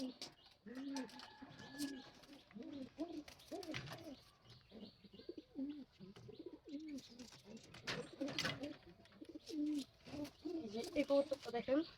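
A pet pigeon gives repeated soft, rolling coos up close, in short rhythmic bursts that continue throughout, with faint chirps and a person speaking quietly at times.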